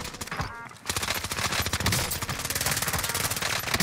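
Rapid video game gunfire from a keyboard-and-mouse shooter, with dense automatic bursts running almost without a break after a short lull near the start, loud and close.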